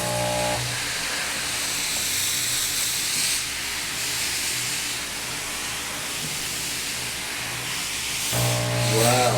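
A Laurastar steam iron blasts pressurized steam through a bath towel in a loud, continuous hiss. Near the end it stops and a brief electronic tone sounds.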